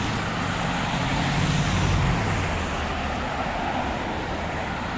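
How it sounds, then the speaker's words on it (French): Busy street traffic with many cars driving past on a morning city road in the USA, a steady close roadway rumble with one vehicle swelling louder as it passes midway. "Beaucoup de voitures qui sont en train de rouler."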